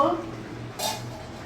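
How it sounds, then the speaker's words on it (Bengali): A metal lid is lifted off a cooking pot of boiling taro for a prawn curry: one brief, bright clatter over a low kitchen hum. "বন্ধুরা আমি এখন ঢাকাটা খুলে দেখব।"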